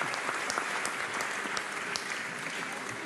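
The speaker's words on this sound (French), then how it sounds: "Allez, on l'applaudit." Applause from an audience at the Ballon d'Or 2022 ceremony, a dense steady wash of clapping heard at a distance and fairly faint, continuing throughout.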